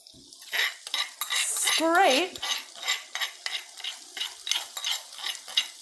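A utensil scrapes a ginger and garlic mixture into a pan of softened onions, with a sharp squeal of metal on metal followed by a run of rhythmic scraping and stirring strokes, loud and close.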